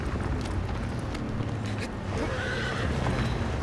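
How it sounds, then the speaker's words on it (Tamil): A horse gallops and neighs in Shadow of the Colossus, a whinny rising over a dense, loud, continuous bed of hoofbeats and rushing wind, with no voices. "ஓடுறா குதிரையில ஓடுறா."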